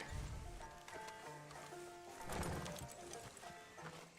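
Horse hooves clip-clop over ground in the Western game Red Dead Redemption II, a quiet, steady stream of hoof steps mixed with faint ambient noise and distant clatter.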